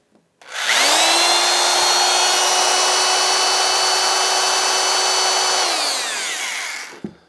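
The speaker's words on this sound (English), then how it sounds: "So if you needed to get some drilling done, of course you can do that." An electric drill powered by a VATID 600W power station spins up to a loud, steady high whine, holds for about five seconds, then winds down, with a short clunk at the end.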